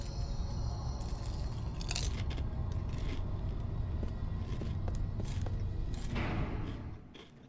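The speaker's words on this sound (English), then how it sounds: "I'm gonna sneak a handful of chips." Crunchy chips being munched by the handful, a steady close-up crackling crunch that fills several seconds before easing off, with game sounds faintly behind.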